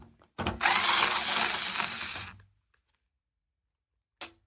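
Screws being worked loose on a QuickShot Wizmaster QS-118F gamepad give a loud, dense mechanical whirr lasting about two seconds, followed by silence and one short sharp click near the end.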